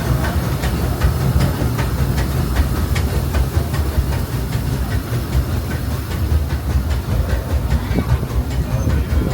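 Disneyland Railroad steam train rolling along, a steady dense rumble with rhythmic rail clatter and hiss throughout, loud and continuous with no talk.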